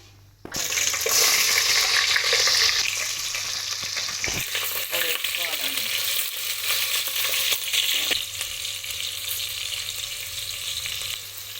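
Cinnamon and cloves hit hot frying oil with a loud, close, steady sizzle that starts abruptly and holds throughout, with a few faint clinks and stirs along the way.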